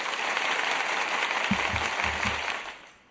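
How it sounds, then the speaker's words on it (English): Applause from a small audience rises as a steady wash of clapping, with a few low thuds midway before it fades out at the end. "Give a round of applause for yourselves as well"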